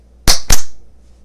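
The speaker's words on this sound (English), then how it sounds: "I completely forgot this hat has fireworks come out of it" Two sharp, loud pops from small fireworks bursting out of a novelty hat, a quarter-second apart, each with a short crackling hiss that fades quickly into quiet.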